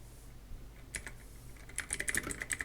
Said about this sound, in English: now type Microsoft